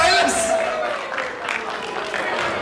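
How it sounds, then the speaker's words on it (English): A crowd applauds a guest named Silas at an event, a brief burst of clapping and crowd noise under a voice speaking over it. "round of applause for Silas"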